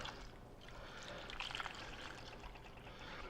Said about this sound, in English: We're just going to add some clean water here.